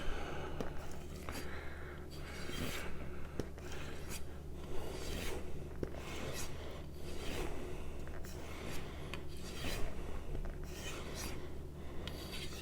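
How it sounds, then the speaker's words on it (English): An AEB-L steel knife is stropped freehand, producing repeated soft rasping strokes in a steady back-and-forth rhythm, close and fairly quiet. "I'm stropping at the same angle I sharpened at."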